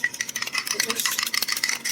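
A utensil whisks seasoned scrambled-egg mix in a bowl, a rapid, steady run of close clicking and tapping strokes that carries on throughout without any voice.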